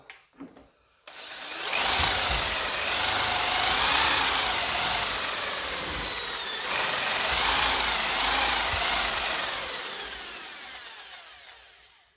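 A power drill fitted with an old broken flathead screwdriver whirs steadily as it stirs grey paint for a 1954 Ferguson 20 TEF, a close, loud whine with shifting pitch lasting about ten seconds before winding down.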